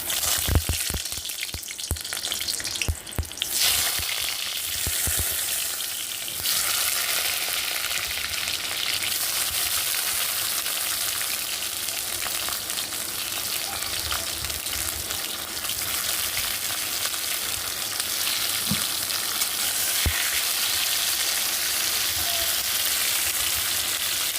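Tomatoes go into hot oil in a wok for a tomato mash, setting off a loud, dense, continuous frying roar with bubbling spatter and a few thumps early on.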